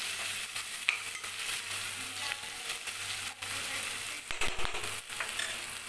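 Cashews frying in hot oil for a vegetable biryani, stirred steadily in the pan, giving a continuous close sizzle with scraping stir strokes and a few louder clatters near the end.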